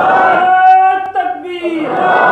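A crowd at a religious gathering chants back in unison in answer to a takbir call, a loud, sustained surge of many voices that dips briefly midway and swells again.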